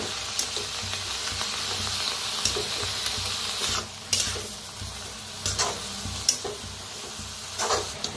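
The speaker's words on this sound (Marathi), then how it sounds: "थोडी थोडी टाकून पण अशी मिक्स करूया" Safflower greens (kardi bhaji) are stirred in a hot pan, a continuous sizzle broken by sharp scraping strokes of the spatula every second or two, close and fairly loud.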